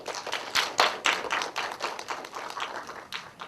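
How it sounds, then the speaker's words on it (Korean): A modest audience at a Korean film event applauding an actress, scattered individual claps close by, irregular and thinning, with no talk over them. "박수 부탁드릴게요"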